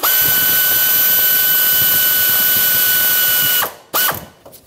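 A ratchet works a few seconds on the alternator belt tensioner of a Toyota Tacoma with a 2.4L four-cylinder, giving a loud continuous mechanical whirring clicking that cuts off, followed by two short bursts.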